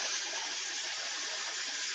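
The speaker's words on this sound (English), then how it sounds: "Just add water." Tap water runs steadily into a kitchen sink while mead-making equipment is cleaned, a continuous broad hiss that stays even and close for the whole stretch with no talk over it.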